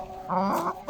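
Light Brahma chickens clucking close by, a few short throaty calls rising and falling, with a brief louder cluck at the end.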